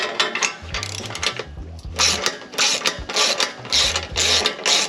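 A ratchet turning a bolt on the Corsa Sport catback exhaust of a 2018 Mustang GT: repeated bursts of quick metallic clicking close by, over a low mechanical hum.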